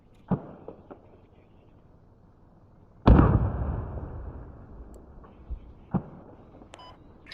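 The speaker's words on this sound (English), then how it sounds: "the sound of the explosions would indicate" Explosions from a T-72 tank being destroyed in the military shooter game Squad: a sudden loud boom with a long rumbling decay, plus a few sharper distant blasts and pops before and after.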